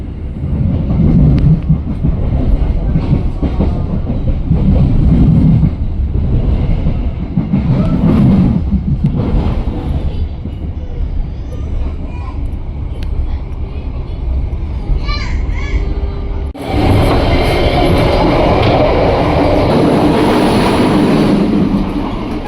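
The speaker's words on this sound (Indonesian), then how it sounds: "dia lagi langsiran ini lokomotif." A locomotive shunting at a railway station on Indonesia's northern line gives off a steady low rumble with faint clanking, while people and children talk nearby over it; a brighter, louder wash of noise comes in near the end.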